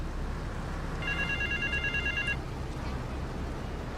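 A telephone rings in GTA 3 with a single electronic trill lasting about a second, fairly quiet over a low background hum, with no talking.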